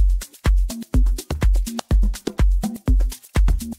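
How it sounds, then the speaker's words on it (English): A punchy programmed drum groove for a music production track, with steady kick and snare hits in a tight repeating rhythm, played loud and clear with no voices. "Let's say you've just put together a drum groove that sounds like this."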